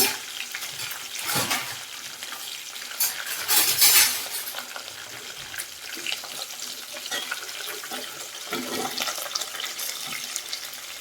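A tempering sizzles in oil for puffed rice upma, a continuous frothy hiss with stirring scrapes and a couple of louder surges, heard close up without talk.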